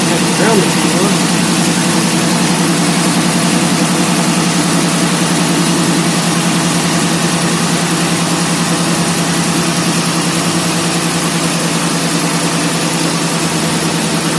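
A Dodge Charger R/T engine idles steadily around 1000 RPM, a loud, even, continuous rumble that holds throughout, and a person talks over the engine noise.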